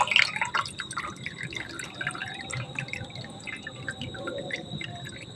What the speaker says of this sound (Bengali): সেঁকে দিয়ে জলটা পুরো বের করে নেব।